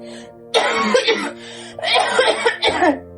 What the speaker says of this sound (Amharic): ሳል ሊገለኝ ነው።